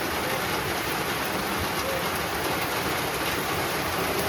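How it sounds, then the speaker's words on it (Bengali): Heavy rain pours down at night in a steady, dense hiss that fills the whole clip, loud and unbroken. "আজকেও শুরু হয়েছে"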